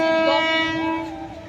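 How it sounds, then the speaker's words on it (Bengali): A train passes close by with a loud, sustained horn blast of steady layered tones, joined by rumbling carriages under it, heard from a rooftop. "ট্রেনের যা আওয়াজ।"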